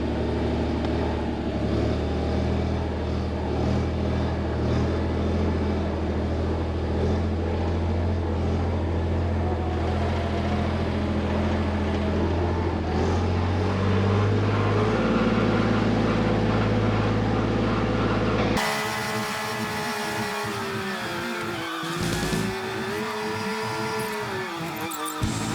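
An old tractor engine for a side discharge Marshall muck spreader runs steadily at a low idle, a continuous close rumble that swells slightly before the sound changes to a rougher, fluctuating tone near the end.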